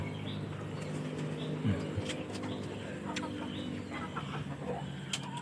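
Sick chickens with colds in a backyard coop let out sparse, faint clucks over a quiet rural background with distant chirps.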